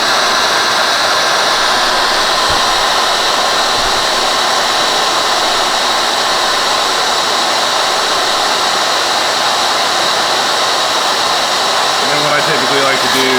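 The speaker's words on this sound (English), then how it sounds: "when you click drop, it's going to automatically trigger the fan" A cooling fan on a Kaleido M2 coffee roaster runs after the bean drop, a steady broadband rushing whoosh held at even loudness throughout, with a faint low rattle near the end.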